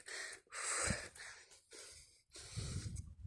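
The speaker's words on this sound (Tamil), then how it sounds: "எனக்கே ரொம்ப மூச்சு வாங்குதில்ல." Heavy, close panting from someone out of breath while climbing the old steps up Rangamalai hill, with ragged breaths coming in several uneven bursts.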